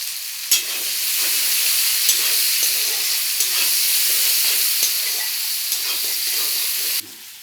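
Onion frying in a pan with bay leaf and garam masala for a country chicken curry, a steady close sizzle running throughout with a few faint stirring ticks, stopping abruptly near the end.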